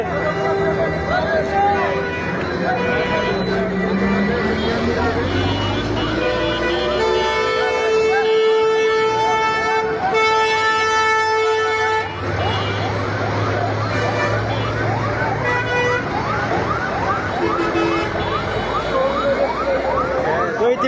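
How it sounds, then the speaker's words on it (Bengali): A fire service truck arrives at a fire with its siren wailing loudly and continuously, rising and falling tones sweeping over engine noise while people talk nearby. "ফায়ার সার্ভিসও গাড়ি এসে পড়েছে এখানে"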